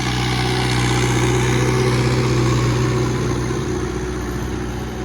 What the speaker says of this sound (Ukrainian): Легенький цей плуг для цього трактора